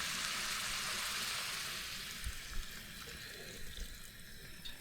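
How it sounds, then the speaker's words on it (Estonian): Water pours into a cooking pot of minced meat, stewed vegetables and pasta in a summer-house kitchen, a steady close rushing stream that softens after a couple of seconds, with a few light knocks of the pot. "Ja kohe vesi ka peale."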